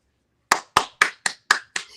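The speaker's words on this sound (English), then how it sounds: "Just clapping," Six sharp hand claps in a steady, evenly spaced rhythm, close and crisp with short decays, after a brief silence.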